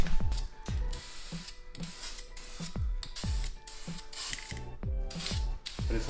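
Repeated short hisses of spray paint go onto a G35 sedan headlight in light coats, each burst mixed with the rattling click of the can's mixing ball. The bursts come in a rough, uneven rhythm, close and moderately loud, with no talking.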